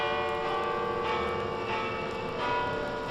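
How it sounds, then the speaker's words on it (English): Large tower bells ring out together in a dense, sustained clangor, overlapping tones repeating roughly every half second, loud and without voices. "what do you know? The bells!"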